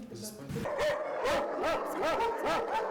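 Several dogs bark and yelp in quick succession, a busy overlapping chorus at moderate distance.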